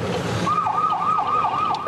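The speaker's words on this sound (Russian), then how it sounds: "От гулу сирены поток машин одразу расступался." An emergency vehicle siren wails on a road as traffic makes way, a fast repeating up-and-down tone that starts after a moment of street noise and carries on loud and close.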